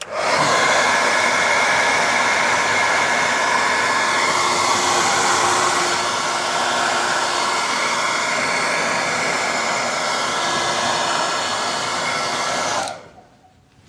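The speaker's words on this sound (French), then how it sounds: "Ici, comme d'habitude, un petit coup de sèche-cheveux." A hair dryer blows steadily at close range on carbon car door trim with a loud, even whoosh for about thirteen seconds, then cuts off abruptly.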